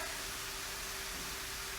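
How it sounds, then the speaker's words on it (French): Rice cooking water poured out of a saucepan into a sink, a steady broad rushing hiss lasting under two seconds at low level, with no voices. "Moi je vais justement vider la casserole de riz"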